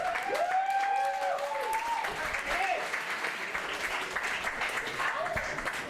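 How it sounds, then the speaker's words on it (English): Applause at a stand-up comedy show, a sustained crowd of hands clapping throughout, with voices and cheers rising over the clapping near the start. "let's give him a round of applause, please"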